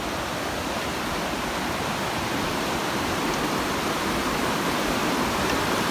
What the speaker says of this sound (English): Yeah, this is Gold Creek.